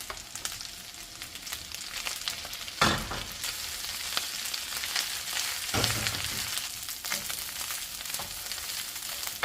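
Leftover rice frying in a pan makes a continuous crackling sizzle, with two heavier scraping stirs partway through and steady hiss throughout, close-up and without voices.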